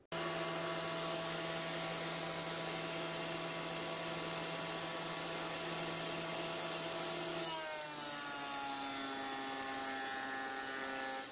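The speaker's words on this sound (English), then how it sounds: "I have my thickness planer out, and we're gonna take those pieces right there and shave those down to about half an inch." A thickness planer shaving wooden pieces down to about half an inch, its steady motor whine running loud and unbroken, with the pitch dropping as a board feeds through near the end.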